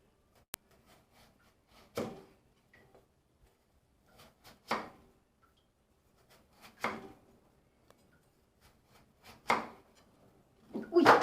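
Sparse knife chops through mushrooms on a cutting board, single sharp knocks spaced a couple of seconds apart with quiet pauses between, ending in a quicker cluster.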